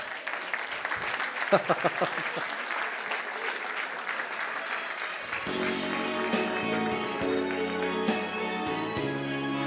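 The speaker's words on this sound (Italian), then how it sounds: "intanto fate un altro applauso" A crowd at a fashion show applauds with fairly loud clapping and some voices. About halfway through the clapping gives way to a song starting, sustained musical tones carrying on to the end.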